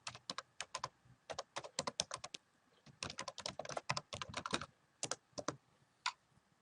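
Typing on a computer keyboard into a GIS software search box, with bursts of close, crisp keystrokes in quick runs and a brief pause midway, no talking.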